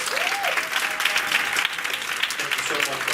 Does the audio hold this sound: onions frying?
no